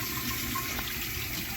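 A 1970 Kilgore Apex toilet flushing during a performance test: steady rushing water, close and fairly quiet, a continuous gush with no pauses.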